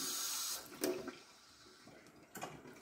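Water runs steadily from a kitchen tap that feeds a hydrogen water generator, a faint, even hiss broken by a few brief splashes and knocks.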